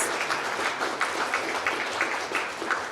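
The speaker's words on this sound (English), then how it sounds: "That deserves a round of applause." Applause from an audience of company team members at a workplace get-together, steady clapping at moderate volume through the whole stretch with no voices over it.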